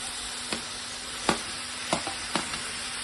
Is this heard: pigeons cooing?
no